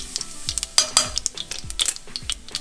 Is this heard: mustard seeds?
yes